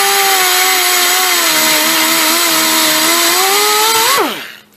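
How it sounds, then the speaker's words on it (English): A die grinder cuts away the excess end of a Heli-Coil thread insert, giving a loud, steady high-pitched whine that holds for about four seconds before the tool spins down and stops. "I got a die grinder bit for these."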